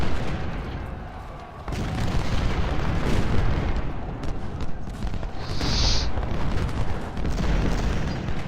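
Cannon fire in a Civil War battle game set at First Bull Run: repeated heavy booms and rolling artillery blasts over continuous battlefield rumble, with scattered musket-like cracks throughout.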